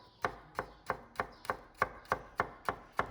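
Knife chopping shallots and garlic into thin slices on a board, close and crisp with about ten evenly spaced cuts at a steady rhythm, no voices.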